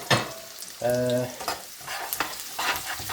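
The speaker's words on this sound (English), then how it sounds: "I'm going to add the chopped garlic. You need plenty of garlic in the prawn curry." Chopped garlic fries with whole spices in a pan for a prawn curry with king prawns in the shell, giving a steady close sizzle with stirring scrapes and a brief tonal whine partway through.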